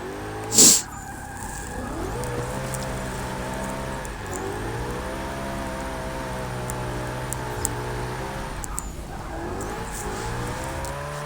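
A drifting car in the Forza Motorsport 6 racing game, with its engine holding a steady high drone that rises and falls through gear changes while tires squeal continuously, plus one sharp burst near the start; no one talks.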